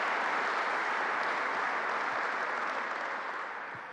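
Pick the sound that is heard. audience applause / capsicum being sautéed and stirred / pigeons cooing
audience applause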